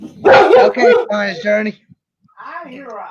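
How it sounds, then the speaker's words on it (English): A dog barks a few times in the background while people talk over it nearby, the barks mixed in and partly masked by the voices. "That is a dog."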